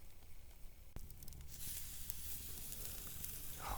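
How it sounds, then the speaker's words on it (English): Strip steak sizzles on a hot grill outdoors, a close, steady crackling hiss that swells louder after a brief thump, with no voices. "Oh, you hear that sizzle?"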